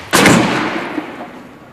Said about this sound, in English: Schiff and his team at Clemson University fire 2x4s at more than 160 kilometers per hour into a variety of structures to represent the damage done during a tornado